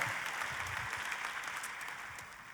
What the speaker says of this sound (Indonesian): Tepuk tangannya lebih dahsyat lagi buat Yesus Tuhan kita.